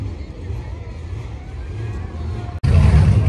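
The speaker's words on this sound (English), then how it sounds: "Anytime when I hear those sounds of the car" An old-fashioned car's engine revs at the Good Guys car show at the Alameda County Fairgrounds. It rumbles steadily and close, then cuts off abruptly and returns as a louder roar, with crowd noise beneath.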